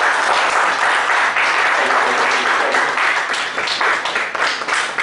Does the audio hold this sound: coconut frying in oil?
no